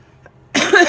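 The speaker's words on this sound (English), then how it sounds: "As you can tell by that little cough that's still lingering on" A person still recovering from being ill gives a single short, rough cough up close, following a moment of near silence.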